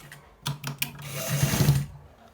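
Sewing machine stitching a shirt collar, a short whirring run of needle strokes starting after a few light clicks, close and fairly soft.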